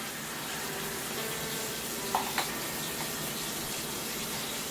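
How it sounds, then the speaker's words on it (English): Tomatoes are rinsed under running tap water, a steady hissing stream with a couple of faint knocks partway through, close and continuous. "is just rinsing the tomatoes a bit"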